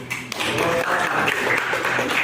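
A room of participants at an academic coaching session clapping together, a dense, steady round of hand claps lasting a couple of seconds, close and moderately loud.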